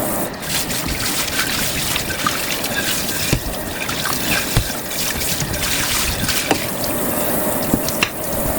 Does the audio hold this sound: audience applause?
no